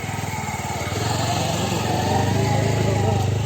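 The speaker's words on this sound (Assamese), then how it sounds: "আমাৰ দাদাহঁত বাইকত আহি আছে।" A motorbike engine, ridden by people arriving over muddy ground, draws steadily nearer with a buzzing drone that swells louder across the clip, with faint voices in the background.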